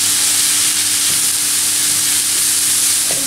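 Vegetables, carrots among them, fry steadily in a pan, giving a continuous close sizzle with a bright hiss that holds level throughout and has no talk over it.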